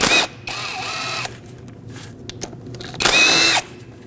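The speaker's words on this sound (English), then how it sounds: "And now we can unbolt our solenoid." Two bursts of a power drill or impact driver spinning out 10mm bolts from the front-bank VVT solenoid on a 2008-2012 Honda Accord 3.5L V6, one longer whir followed by a shorter one, close and loud with quiet gaps between.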